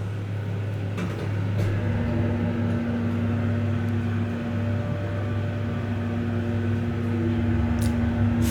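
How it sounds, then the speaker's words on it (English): A General/Miami hydraulic elevator motor starting up: a steady low hum with a constant tonal drone, continuous and even, with faint clicks now and then. "listen to the motor start up"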